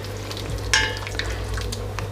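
Tomato tipped into onions already frying and caramelised in a pan for chickpea pilau, giving a brief louder burst of sizzle over a steady close frying hiss, with no talk.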